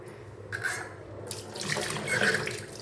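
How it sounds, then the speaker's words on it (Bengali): A kitchen tap runs steadily into a sink while fish is washed, with a continuous rushing and splashing stream that swells and shifts as the pieces are handled under the flow, close and alone. "এগুলো এখন ধুয়ে কেটে ধুয়ে পরিষ্কার করে নেব"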